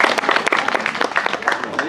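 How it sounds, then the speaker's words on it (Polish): Applause at the closing of a painting exhibition, a short burst of lively, fairly loud clapping from a gathered audience, dense and uneven, with voices mixed in beneath it. "Brawa!"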